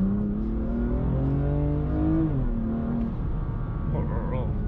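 A 410 hp BMW M2 Competition with a standard exhaust revving, a loud sustained engine drone rising and falling in pitch, up close throughout, with a voice joining near the end.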